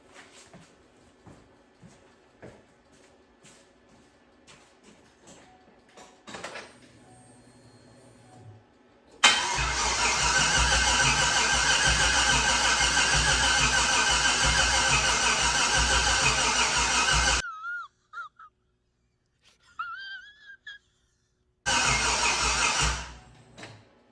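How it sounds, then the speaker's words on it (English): Turbocharged Chevrolet Silverado engine cranking, then catching and running loudly for several seconds before cutting off, followed by a short silence and another brief burst of engine noise. "Try to crank her over and see what happens."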